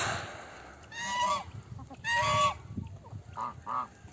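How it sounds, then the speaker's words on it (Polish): Geese honk repeatedly at close range during courtship, loud nasal calls in bursts with shorter, quieter honks toward the end over a low background rumble. "No tak mniej więcej zaloty gęsi wyglądają."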